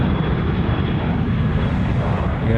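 A Velocity Boeing 737-800 airliner roars past at Sydney Airport, a loud, steady broadband engine rumble filling the whole stretch without a break.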